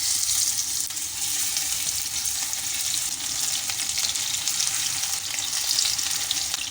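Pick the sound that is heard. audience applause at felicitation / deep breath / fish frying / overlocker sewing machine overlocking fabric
fish frying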